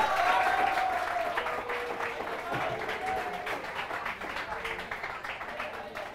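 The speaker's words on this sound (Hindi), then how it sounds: "ताली बजाइए" Students in a physics lecture class clap together, a dense burst of applause that starts loud and slowly tapers, with a voice talking over it.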